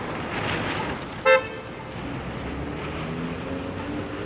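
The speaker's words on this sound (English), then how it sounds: "This car here is getting honked at." A single short car horn toot sounds from nearby on a downtown Toronto street over steady traffic hum.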